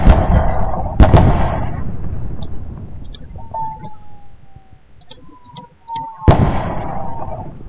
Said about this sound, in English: This time, it's the atomic bomb.